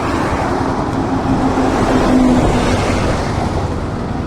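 Broadband roadway rumble and wind buffeting surround a motorcycle on the road as a lorry passes, the heavy vehicle's drone swelling briefly and then fading beneath the steady rush.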